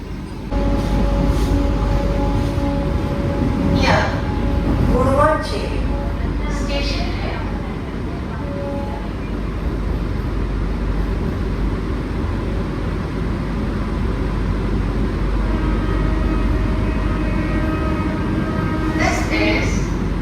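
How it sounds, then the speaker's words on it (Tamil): A MEMU passenger train running from Villupuram to Tambaram passes nearby, a loud sustained rumble of wheels and carriages with a couple of brief horn-like tones early on. "அந்த பக்கம் பார்த்தீங்கன்னா விழுப்புரம்ல இருந்து தாம்பரம் வரைக்கும் வர ஒரு மெமு"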